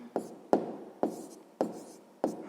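A pen or pencil writes down an answer by hand in five separate scratchy strokes spaced about half a second apart, close and fairly quiet.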